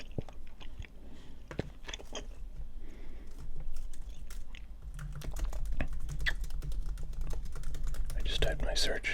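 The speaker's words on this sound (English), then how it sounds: "I just typed my search before into YouTube" A search is typed on a computer keyboard in a quiet ASMR setting. Crisp, close key clicks come in irregular bursts, growing denser and busier in the second half.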